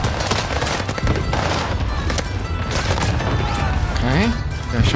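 Dense, continuous gunfire in a Warzone match, rapid overlapping shots and bursts filling the whole stretch, loud and close, with a voice talking over the action.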